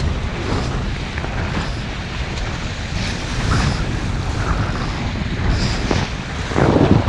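A Hobie 16 catamaran sails through waves with one hull flying, giving a constant close rush of water and wind noise that swells louder toward the end.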